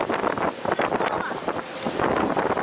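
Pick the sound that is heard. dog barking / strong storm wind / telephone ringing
strong storm wind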